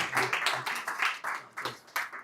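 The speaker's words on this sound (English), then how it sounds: "Round of applause. Round of applause." An audience gives a short round of applause after a contest result at a tech talk, a light scattered clapping from a modest crowd lasting a couple of seconds.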